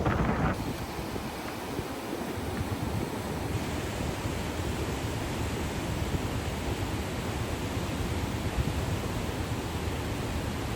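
Water pours through open reservoir spillway gates in a steady, loud, broadband roar that holds evenly throughout, with no voices.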